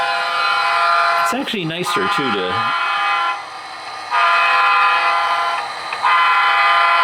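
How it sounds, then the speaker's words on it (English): A diesel locomotive horn blasts several long, loud honks up close during local switching operations, each pitch-bending tone layered over steady rail and engine rumble, with someone talking throughout. "A lot of honking over here."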